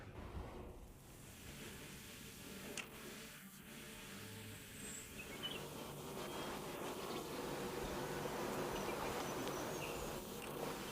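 Honeybees buzzing around a hive in a garden, a continuous faint outdoor drone that swells slightly toward the end, with occasional louder passes of single bees near the listener; no voices.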